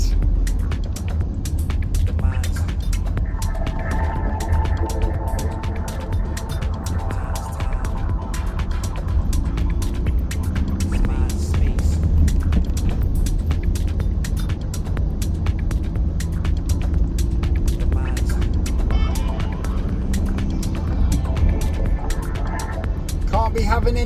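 An HGV lorry engine drones low and steady while driving, with rattling clicks and cab noises on top and someone talking over it for much of the time.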